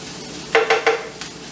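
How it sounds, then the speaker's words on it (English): Meat marinating in taco seasoning is stirred in a pan, giving three quick scraping, sizzling strokes and a fainter fourth, close and brief with no talk. "let me stir this around a little bit"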